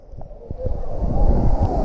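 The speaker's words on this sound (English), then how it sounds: "There's the waves." Waves surging in the Volcano Bay wave pool at Universal Orlando, a broad rushing wash building louder toward the end, with wind buffeting the microphone and a few scattered thumps.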